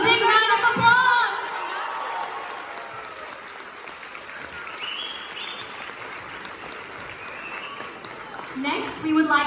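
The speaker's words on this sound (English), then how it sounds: "A big round of applause." An audience at a Sydney bhajan concert applauds the Nandagovindam bhajan team, clapping strongly at first, then thinning into a softer, scattered patter with murmuring crowd sounds before a brief swell at the end.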